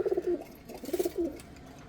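Breeder pigeons coo nearby in soft, rolling phrases, two bursts of throaty cooing separated by a short pause.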